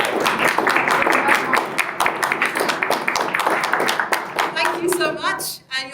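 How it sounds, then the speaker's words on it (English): An audience at a community talk breaks into a round of applause, a dense burst of clapping that holds for several seconds and thins toward the end, with a voice briefly heard near the close. "A round of applause."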